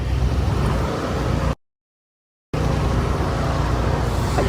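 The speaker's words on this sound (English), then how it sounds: "Nice BMW X6." A BMW X6 drives past with a broad, loud road and engine roar. A sudden second of total silence cuts the sound in the middle before the roar resumes.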